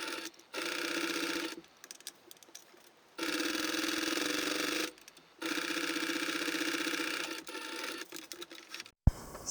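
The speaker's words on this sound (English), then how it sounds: "So we're just going to fold that guy over and then just do a single stitch right across." Sewing machine running a single straight stitch along a folded seam on a blazer, in three steady bursts of rapid even whirring separated by short pauses, close and clear with no talking.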